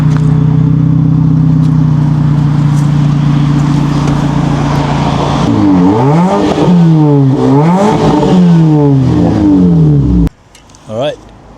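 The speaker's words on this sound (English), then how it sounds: "I think the car is gonna sound really cool without the back box. So I'm gonna start it and hear how it sounds." A car engine running with its rear exhaust box removed: a loud, steady low drone, then a run of repeated rising-and-falling revs that stops abruptly, with a brief clatter after.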